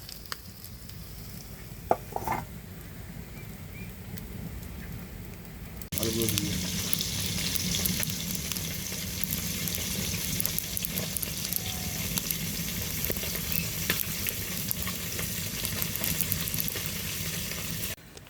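Fish deep-frying in hot oil at a village picnic, giving a quiet sizzle at first, then a sudden louder, dense crackling burst from about six seconds on that stays steady to the end.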